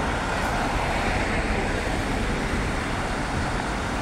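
Continuous roadway noise on London's Tower Bridge above the Thames, a broad steady roar of passing cars, buses and trucks, moderately loud and unbroken for the whole stretch.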